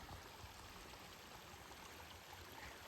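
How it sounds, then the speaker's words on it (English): A small creek on the Appalachian Trail flows in a steady, even rush of water that carries on without a break, close by and fairly quiet, with no voices over it. "Got a little creek."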